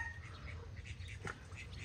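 A farm duck recovering after nearly drowning gives a few soft quacks and squawks against low background noise, with faint rustling nearby.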